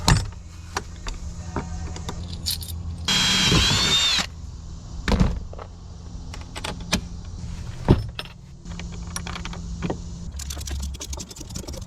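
A power drill whirs in a short high burst while drilling holes in a 1982 Glasstream boat, amid clanks, taps and handling noises nearby, followed by scattered knocks and a second faint drill run.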